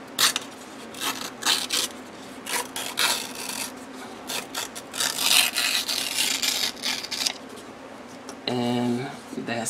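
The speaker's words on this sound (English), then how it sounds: "And that seemed to tear pretty cleanly." Paper torn along a We R Memory Keepers tear guide craft tool, giving several raspy ripping strokes up close, with a brief spoken voice near the end.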